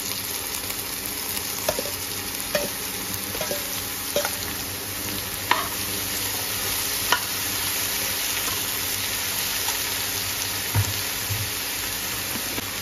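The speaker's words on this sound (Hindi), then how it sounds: "और अब हम इसमें डाल देते हैं तोरी, जिसको हमने बारीक बारीक काट के रखा हुआ था।" Finely chopped ridge gourd (turai) sizzling and frying in a pan: a continuous crackling hiss with occasional clicks and taps of stirring, steady and fairly close throughout.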